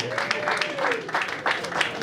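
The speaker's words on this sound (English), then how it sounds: "So please give them a big round of applause." Audience at a Ghana Musicians Union executives' inauguration claps in a fairly quiet, continuous patter of applause, with some voices or tonal noise mixed in underneath.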